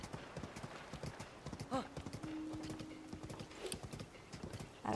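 Hooves clip-clop in a steady galloping rhythm from a horse in the Zelda: Tears of the Kingdom video game, with a brief whinny partway through and a sustained game tone, all fairly close and moderately loud.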